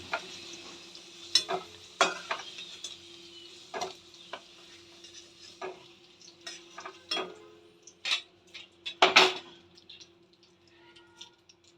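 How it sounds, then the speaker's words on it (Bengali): Dried red chilies and slit green chilies fry in the oil left over from frying potatoes, giving a soft sizzle under repeated scrapes and clinks of a spoon stirring in the pan. "এই আলু ভাজার তেলের মধ্যেই আমি 2টো শুকনো লঙ্কা আর চেরা কাঁচা লঙ্কা ফোড়নে দিয়ে দেব।"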